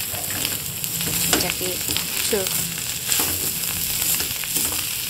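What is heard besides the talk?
dried red chillies frying in a pan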